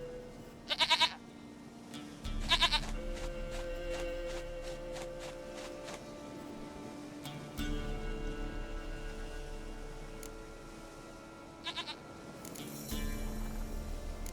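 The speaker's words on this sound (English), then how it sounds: "Goat of mine, dearest, sweetest goat." Several short goat bleats from Witcher 3 sound in repeated bursts, some doubled, over a steady low droning background with faint shuffling.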